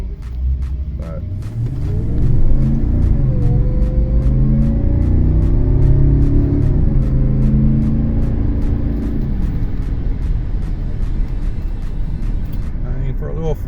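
Supercharged BMW 4.4 liter V8 with a 5 psi boost kit, heard from inside while driving: a steady, loud engine rumble that swells as it pulls, with a rising tone partway through, holding its drone throughout.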